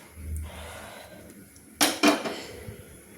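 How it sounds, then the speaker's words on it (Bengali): A spatula stirs a duck egg and kohlrabi curry in a pot after water is added, giving a couple of close, sharp scraping clanks after a quiet stretch of faint background noise. "দিয়ে একটা খুন্তি দিয়ে নেড়ে নিলাম"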